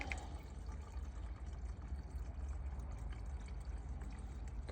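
Fuel runs steadily through a siphon hose from a vehicle with a soft gurgling trickle, close up and continuous, with no talking.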